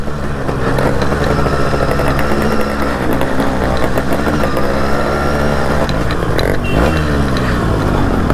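Yamaha RX two-stroke motorcycle fitted with a Shadow Blaster exhaust, a loud, continuous, raspy engine drone with crackling revs, close and steady throughout with no talking.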